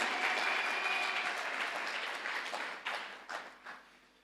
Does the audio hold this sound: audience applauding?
yes